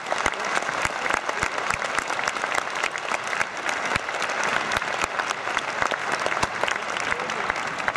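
A live audience applauds at a horse-training demonstration, producing dense, sustained clapping that holds steady throughout with crisp individual claps standing out.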